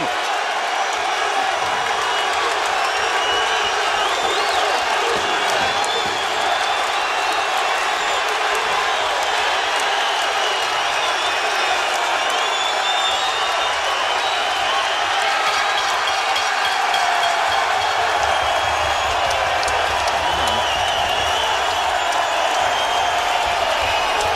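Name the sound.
deafening crowd roar at boxing match, Videotron Center, Quebec City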